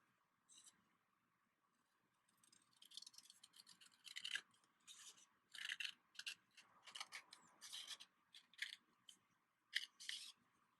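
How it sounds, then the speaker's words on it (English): Scissors snip through paper while cutting out a heart shape, producing a series of quiet, close, irregular crisp cuts that grow denser toward the end, with no talking. "you're just gonna take your scissors and you're gonna cut it"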